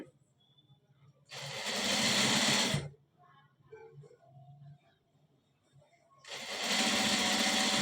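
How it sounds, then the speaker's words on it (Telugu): A sewing machine double stitches a cross belt in two loud, steady bursts of rapid stitching separated by a quiet pause filled with light handling noises. "ఇప్పుడు మొత్తం కుట్టేసేది అనమాట డబుల్ స్టిచ్చింగ్ వెళ్ళండి"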